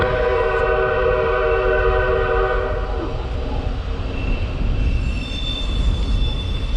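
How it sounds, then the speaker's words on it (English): A train passes close by outdoors, a loud continuous rumble of rolling wagons with sustained squealing, horn-like tones above it, heard steadily throughout with no talking. "There's a train going by."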